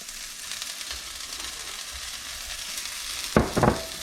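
Mushrooms frying in a pan over fairly high heat, a steady soft sizzle throughout, broken near the end by a couple of louder clattering stirs or scrapes close by.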